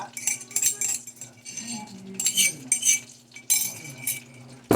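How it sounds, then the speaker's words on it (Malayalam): A spoon stirs chicken with crushed ginger and garlic in a cooking pot, giving repeated close metallic clinks and scrapes in irregular bursts. "നന്നായിട്ടൊന്ന് ഇളക്കി കൊടുക്കുക."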